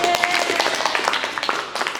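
A class claps steadily for a couple of seconds, a dense patter of many hands close by with no voices over it.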